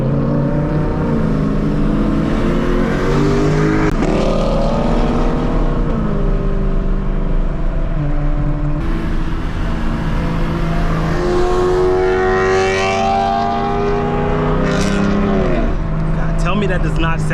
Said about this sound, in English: you guys should be able to hear this Novell exhaust on this GSF